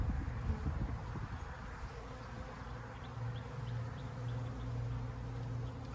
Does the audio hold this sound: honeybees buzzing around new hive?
yes